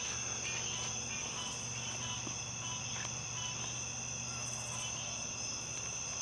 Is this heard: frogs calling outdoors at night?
yes